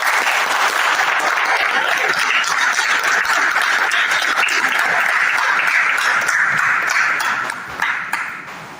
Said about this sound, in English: What is your response? Clap!